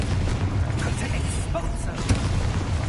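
Confringo blast spell in the Hogwarts Legacy video game, a dense rumbling burst of magical explosion with booming low-end impacts, sustained and loud throughout, layered with continuous game effects.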